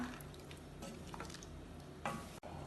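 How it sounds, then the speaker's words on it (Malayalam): Rice for Thalappakatti chicken biryani stirred in a pot of water, a soft close scraping swirl over a low simmering hiss, with one brief louder scrape near the end and no talking. "ഇത് വീണ്ടും ഇളക്കി മിക്സ് ചെയ്ത് തിളപ്പിക്കാം"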